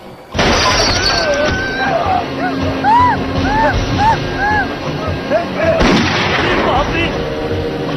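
Gunfire rings out on a train in a Hindi-dubbed movie, loud repeated shots and crashing impacts over a dense action soundtrack, with voices shouting and speaking throughout.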